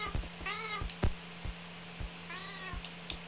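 Cat meowing in a video game, two clear meows about two seconds apart over a faint hum, with scattered soft clicks and thumps in between.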